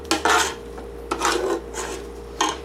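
A utensil scrapes stuck fond off the bottom of a pan while vegan beef stroganoff cooks, three rasping strokes spaced about a second apart, close and distinct.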